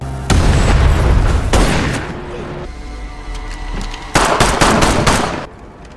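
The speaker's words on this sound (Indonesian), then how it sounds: "Secara bersamaan, tiba-tiba kapal yang dinaiki Thomas meledak karena rupanya Mike sudah menyimpan bom di dalam tas berisi surat obligasi tersebut." A boat blowing up from a bomb hidden in a bag in an action film: heavy booming blasts with crackling bursts, two loud waves separated by a quieter rumbling stretch, then dropping away at the end.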